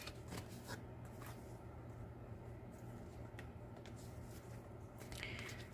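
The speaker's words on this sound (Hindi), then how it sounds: "शफल कर लेती हूँ पहले।" Tarot cards are shuffled in a faint, steady papery riffle with light flicks, quiet and close, with no one talking.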